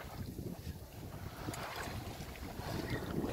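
A small sailboat moves under a sun-shade tarp while wind buffets the microphone, giving a steady rushing, flapping noise with faint water movement close by.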